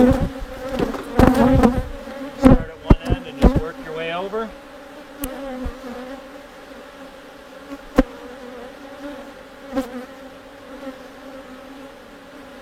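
Bees buzzing around a beehive super, a steady droning hum throughout with sharp knocks and scraping from handling the hive frames near the start, while a person talks briefly over it.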